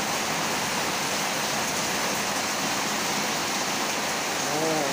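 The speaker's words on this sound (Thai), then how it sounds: "ตกแรงมากดูท่อน้ำฝนดิท่านผู้ชม" Heavy rain pours through a rain gutter in Bang Pu, Thailand, a steady, loud rushing roar of water with no break, filling the whole scene from start to end.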